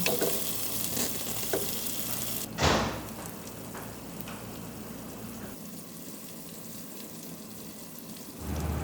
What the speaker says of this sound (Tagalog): ilagay na natin ang ating onion, tomato sauce, and oil sa mainit na pan